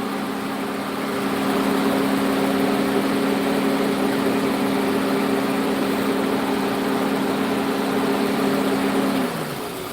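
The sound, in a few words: Toyota Camry 2.4 liter engine idling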